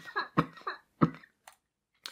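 A podcast host coughs several times in quick, uneven bursts close to the microphone, followed by a short throat clear, with no speech over it.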